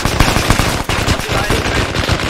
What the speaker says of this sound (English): Oh, heavy fire, stop firing, please